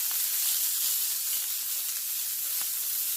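Seasoned food with a sprinkle of herb vegetable mix sautéing in a pan for a brown rice bowl, a steady soft sizzle throughout with a few faint clicks, no talking.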